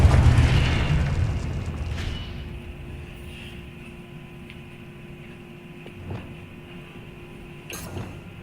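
The Confringo blasting spell from Hogwarts Legacy lands as a loud, close boom at the start, then rumbles away into a long fading tail, with a few faint clinks and pops after.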